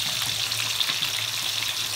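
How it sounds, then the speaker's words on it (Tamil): Fish pieces frying in hot oil in a home kitchen while a spicy fish gravy is being cooked, giving a steady, dense sizzle and crackle heard close up and alone. "மீனை பொறிச்சு எடுத்துடணும்"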